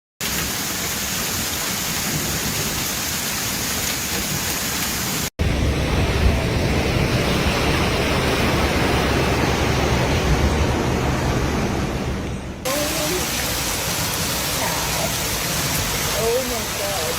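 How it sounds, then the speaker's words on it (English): Floodwater rushes down a street in Meridian, Idaho, after a giant-hail storm, making a loud, continuous broadband roar of flowing water with wind-like noise that changes character partway through. "Oh my god, this is a floodwater going down the street."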